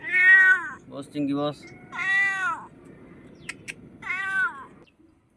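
A cat meows repeatedly, drawn by the smell of hilsa fish being cooked, with several loud, close, rising-falling cries spaced apart. A person talks to it between the meows.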